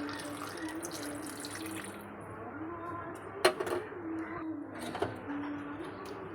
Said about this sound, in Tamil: நான் வந்து ஒரு 2 டம்ளர் தண்ணி அளவு சேர்க்குறேன்